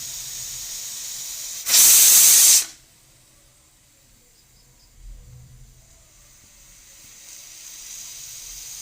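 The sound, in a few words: pressure cooker hissing steam while cooking chicken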